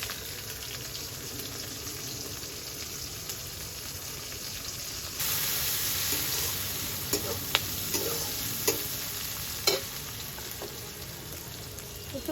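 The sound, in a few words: frying onion, garlic and green chili in oil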